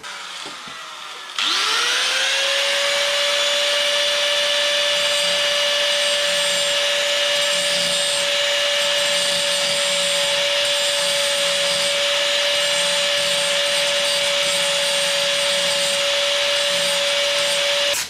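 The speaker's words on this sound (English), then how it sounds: "So the grinder is going to attack that sharp edge and get rid of it." Angle grinder grinding off a sharp metal edge in the engine bay of a Triumph Dolomite Sprint rally car under restoration. It spins up sharply and then holds a loud, steady, close whine with a harsh abrasive edge throughout.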